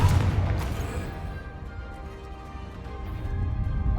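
Heavy spell explosions from Bombarda and Confringo in the video game Hogwarts Legacy, a deep booming blast at the start followed by a rumbling low decay, loud and close with no voices.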